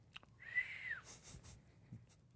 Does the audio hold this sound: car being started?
no